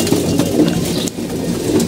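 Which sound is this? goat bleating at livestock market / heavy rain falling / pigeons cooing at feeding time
pigeons cooing at feeding time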